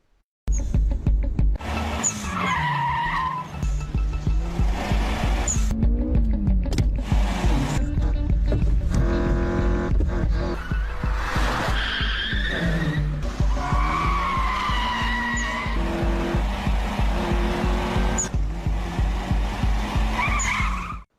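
A car race featuring a Toyota AE86 in an Initial D film, with loud, sustained engine roar and repeated shrill tire squeals from skidding, dense and continuous, with music-like tones layered over it.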